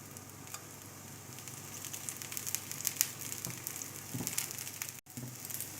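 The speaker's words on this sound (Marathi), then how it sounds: "आता कॉर्नरने आपण तेल सोडूया." Oil sizzles and crackles steadily under a dosa frying on a hot pan over high gas, a soft continuous hiss with scattered pops at close range.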